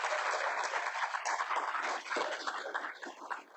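Applause at a police academy Class 124 graduation ceremony for an award recipient, a dense, steady patter of many hands clapping throughout, dipping briefly midway then continuing.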